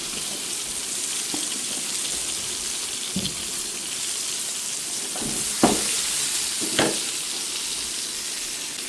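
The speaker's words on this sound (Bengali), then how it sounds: "এক চুলায় বেগুন ভাজা হচ্ছে" Eggplant frying in a pan on a home stove, giving a steady close sizzle throughout with a few sharp utensil clinks and scrapes near the end.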